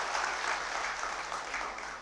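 Audience applause at the start of a technical session at a national convention in Ahmedabad, a steady dense clapping that fills the hall from start to finish at even loudness.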